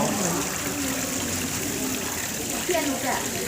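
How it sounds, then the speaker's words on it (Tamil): Water from a pond waterfall splashes and trickles in a steady, close wash that goes on without a break. "இந்த இங்கே ஒரு குளம் இருக்குது, அருவி இருக்குது. இந்த தண்ணி ஊற்றுது."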